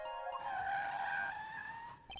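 A car in the Apollo Justice: Ace Attorney video game skids with a long rising tire squeal before speeding off, a short sharp sound effect with no one talking over it.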